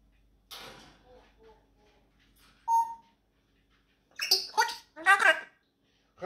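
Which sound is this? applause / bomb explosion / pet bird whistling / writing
pet bird whistling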